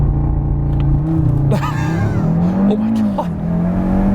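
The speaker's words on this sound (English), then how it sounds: "All right, so I'm going to try launch control now." A 2018 Audi RS3 accelerates hard off a launch-control start, its engine note rising in loud, close revs with a brief shift dip, heard from inside the car while a person exclaims.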